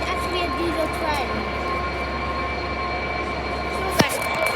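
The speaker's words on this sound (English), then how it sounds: "Because it's a class 66. I don't know why it's a double, because it's a double, so this is actually a diesel train." A Class 66 diesel locomotive passing at York station gives a steady, sustained engine drone with a faint high squeal and a sharp brief clank near the end, with some nearby talking over it.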